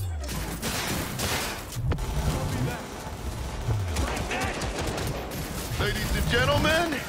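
Gunfire from a firefight in the video game Cyberpunk 2077, with repeated shots and bursts crackling throughout amid game sounds and some voices.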